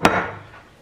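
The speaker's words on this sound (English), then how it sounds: "I hit the camera with the bowl" A bowl knocks against a camera in a home kitchen, one sharp close knock that fades quickly.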